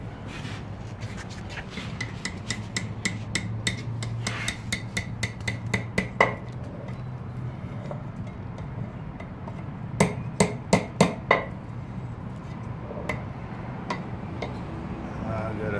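Hot steel being hammered while forging an axe handle, with bursts of sharp, ringing hammer blows in quick rhythmic runs, separated by quieter stretches of background noise.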